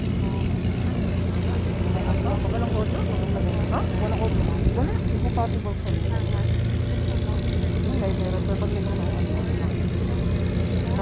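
Philippine Coast Guard propeller airplane PCG 684 arriving at Marinduque Airport in Gasan, a steady loud engine drone running throughout with people talking over it.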